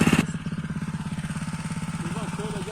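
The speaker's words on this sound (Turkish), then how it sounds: "Çapalama motoru çalıştı" A small Honda GX200 tiller engine chugs steadily at a fast, even rhythm, loud and close, after a brief louder start.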